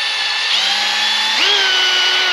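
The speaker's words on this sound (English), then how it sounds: "to drill my holes out just slightly just to make sure that they'll work properly" A power drill whines steadily up close, enlarging holes in a 3D-printed plastic car part, its pitch stepping up partway through as it bites, running continuously without pause.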